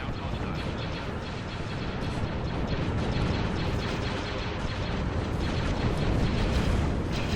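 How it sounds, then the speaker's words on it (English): Torpedo blasts rip into a ship in the Clone Wars space battle game Sins of a Galactic Empire, a dense, continuous roar of overlapping explosions rumbling loudly throughout with no pause. "It's been hit from all sides by torpedoes."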